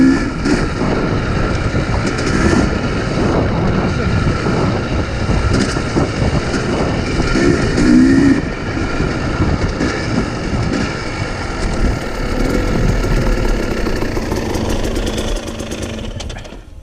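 A newer motorcycle's engine runs at Carnegie SVRA off-road park, a loud, steady, throaty drone that holds for the whole stretch with slight swells and no pauses.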